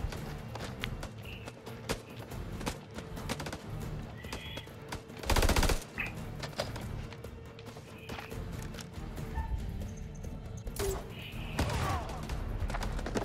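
Gunfire in the video game House of Ashes: scattered sharp shots and one loud burst in the middle, mixed with footsteps and game noise while people talk over it.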